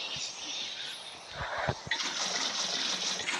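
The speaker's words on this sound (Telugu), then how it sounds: "నీ మీద వాటర్ వేస్తాను" Water pouring and splashing in Minecraft, a steady hiss of flowing liquid with a brief gush partway through, heard close and alone.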